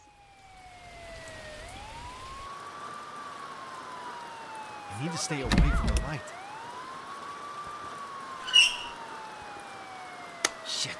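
Police siren in the House Breaker video game wails in long rising and falling sweeps over a steady rain-like hiss, with a brief muttered voice and a couple of sharp knocks partway through.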